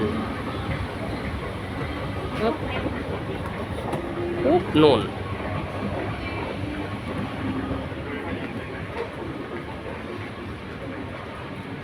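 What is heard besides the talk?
subway train running underground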